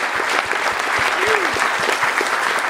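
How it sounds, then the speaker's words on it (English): Audience applause fills the hall at the ETHBoston hackathon closing ceremony, a steady, dense clapping that runs the whole stretch, with a voice briefly audible beneath it. "One more round of applause for everybody."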